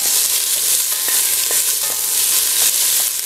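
Onions and carrots sweat gently in a pan as the base for a sweet potato bisque, a steady bright sizzle with a few soft ticks and stirring clicks, close and even, no voices.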